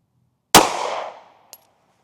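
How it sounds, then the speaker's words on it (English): A single sharp .380 ACP pistol shot from a Smith & Wesson Bodyguard 2.0 fired into clear ballistic gel, loud and close, with a short decaying ring, then a brief faint click about a second later. "this time we're going into just clear ballistic gel. So I'm going to start this slow motion camera and we'll get our shot down range."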